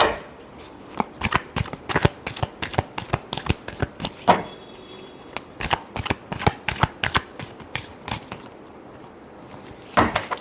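Tarot cards are shuffled by hand in a quick, steady run of crisp riffling slaps, close and clear, continuing for several seconds with a short pause near the end.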